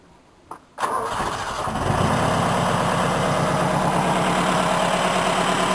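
A Volynets engine running on gas is started with a key: a brief cranking gives way to the engine catching and settling into a steady, loud, rhythmic idle.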